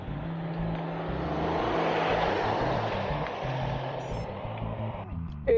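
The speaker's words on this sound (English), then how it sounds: "it's a big white van" A big white van passes cyclists on a steep Cheshire hill road, its engine hum rising and then fading over several seconds, moderately loud against wind noise.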